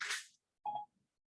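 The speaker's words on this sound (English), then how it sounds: "Oh, that was my phone." A phone notification ding, a short bright tone following a brief burst of higher noise, close by and alone, then quiet.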